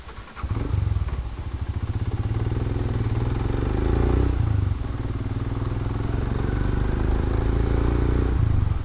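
A motorcycle ridden on a road near Bhor, Pune, toward the Bhatghar dam backwaters, its engine thrumming steadily and close for the whole stretch, with rising revs around the midpoint and a continuous rough, clattering tone.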